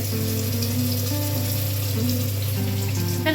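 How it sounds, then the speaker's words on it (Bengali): Fish frying in a pan in a home kitchen, a steady close sizzle and crackle of oil running continuously, with a constant low hum underneath and no talking. "মানে আমার ছেলের মাছ ভাজা হচ্ছে"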